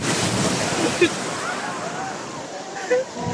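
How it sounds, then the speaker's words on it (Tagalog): Large rushing sea waves surge and wash around swimmers at a beach, with steady wind noise and a few brief voices in the background. "malalaki na yung alon na humahampas sa amin"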